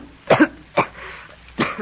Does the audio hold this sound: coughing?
yes